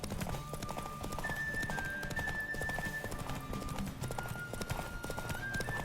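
Rapid horse hoofbeats in The Witcher 3: Wild Hunt gallop without pause, a dense drumming clip-clop under a faint sustained tone, loud and close throughout.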